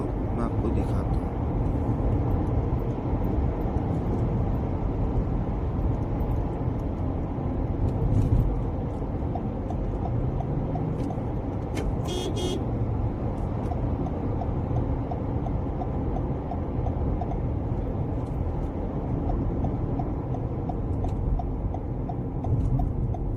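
A car cruises along a Saudi road just off the Dammam highway, heading for a turn onto Khalid bin Walid road. Its steady engine and tyre rumble holds level throughout, with someone talking over it.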